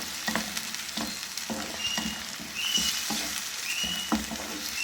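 Chutney ingredients seasoned with salt sizzle and crackle steadily as they fry in a pan, with occasional stirring scrapes and a brief louder burst of frying midway, close up and with no talking.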